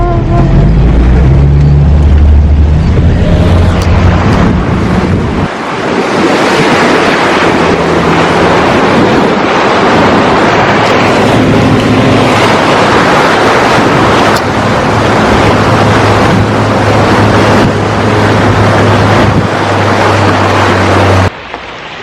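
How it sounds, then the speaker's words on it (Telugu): Car fording a river crossing, with a loud rush and slosh of water and a low engine drone, strongest at the start, then a steady wet roar with wind buffeting the microphone. "మన సెకండ్ రివర్ క్రాసింగ్ వచ్చింది."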